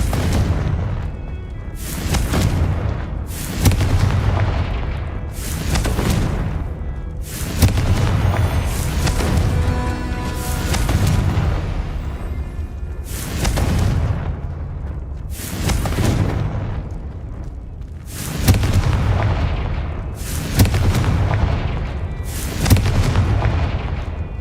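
Confringo fire-spell blasts in Hogwarts Legacy burst out as deep, booming explosions, about ten of them spaced a couple of seconds apart, each a loud thump that fades quickly beneath a steady rumbling backdrop.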